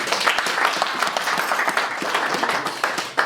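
Audience applause at a year-end celebration, a dense, steady wash of many hands clapping from a crowd, sustained throughout and ending with a final sharp clap.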